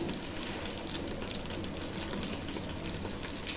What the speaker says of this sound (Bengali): গরম তেলে এলাচ, দারচিনি এবং তেজপাতা হালকা ভেজে নেব